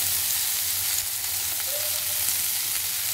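Chopped ginger and garlic roasting in a pan, a steady, fairly loud sizzle with faint scraping now and then, continuous throughout.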